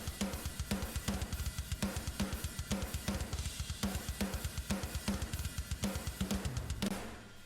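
Drum kit driven through a heavily compressed, saturated parallel drum bus with a high input push: steady kick and snare hits in a driving rhythm, dense and squashed, loud and close with no talking, ending on a fading ring.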